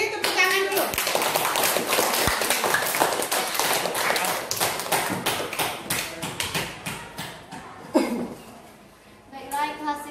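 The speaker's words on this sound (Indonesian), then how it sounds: "Beri tepuk tangan dulu." Classroom applause, a dense burst of many hands clapping that thins into scattered claps and fades, with children's voices murmuring underneath.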